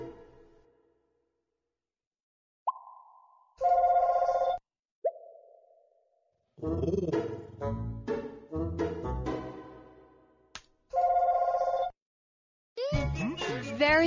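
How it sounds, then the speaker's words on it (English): A telephone ringing in short repeated bursts of bright electronic tones, mixed with brief chimes and other short sound-effect snippets, fairly faint with silent gaps between them. "That's the sound a telephone makes."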